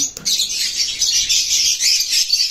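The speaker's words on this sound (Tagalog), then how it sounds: "ayan po yung ibon" Dense, high-pitched bird chirping fills the air continuously, a busy flurry of tweets close by with no pauses.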